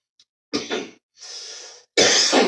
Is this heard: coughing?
yes